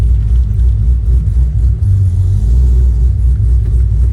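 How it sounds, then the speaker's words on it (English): A cammed LS2 V8 fitted with an LSA supercharger, in a Pontiac GTO out on a test drive, gives a loud, continuous deep rumble with a low, throbbing idle-like lope, close and alone with no talk. "enjoy the sound of a cammed LS2 with the LSA on it"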